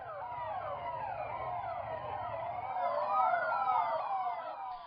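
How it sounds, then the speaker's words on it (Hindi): Delhi Police car sirens wail continuously around Bangla Sahib Gurudwara, several overlapping sweeping tones loud and close, swelling slightly louder toward the end, with no talking. "पूरा इलाका काफी देर तक सायरन की आवाज से गूंजता रहा"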